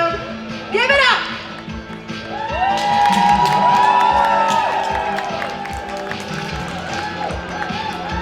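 A convention audience cheers loudly for a cosplayer taking the stage at WinterCon 2023, with whoops and shouts swelling into a sustained roar, a voice calling out over it and excited shrieks near the start.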